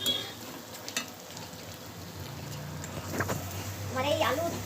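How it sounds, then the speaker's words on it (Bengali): Potatoes sautéed in a pan for aloo dum, a steady sizzle with occasional stirring sounds, partly under a speaking voice and background household noise. "ও আমি এই আলুর দমটা কষছি, আলুর দমটা কষছি,"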